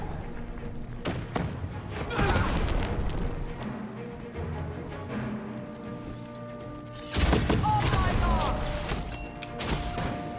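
Heavy booming thuds and crashes from cannon fire in Guild Wars 2, several impacts with a large burst near the middle, over dense battle noise and shouting voices.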